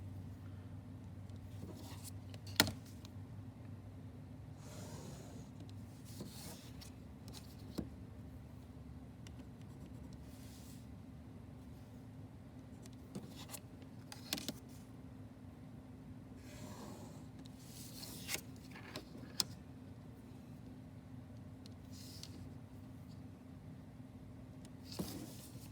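Quiet scratching of a pencil or marker drawing straight grid lines across paper, in soft intermittent strokes with faint clicks over low room hum, for a name quilt pattern.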